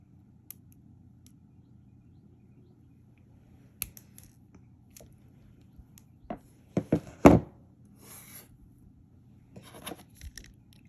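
A Beadsmith one step looper tool cuts jewelry wire, giving a few sharp, close snips and crunchy clicks clustered in the middle, with light handling taps around them in an otherwise quiet room.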